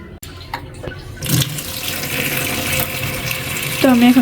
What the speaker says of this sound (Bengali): তো আমি এখন সব সবজিগুলো ধুয়ে নিব।